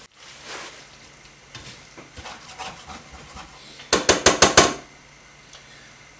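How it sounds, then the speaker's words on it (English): Onions cooking in a pot while a utensil scrapes the bottom: a soft sizzle with scattered light scrapes, then a quick run of five sharp, loud scraping strokes near the end, close and alone. "after 5 minutes of scraping the bottom of the pot"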